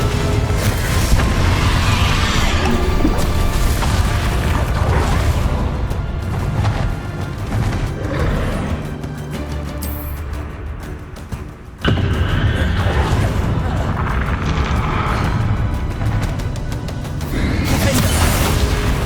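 Spell explosions from Hogwarts Legacy gameplay fire off as dense, repeated booms and crashes amid a continuous, loud game soundscape, with a short lull partway through before the blasts resume.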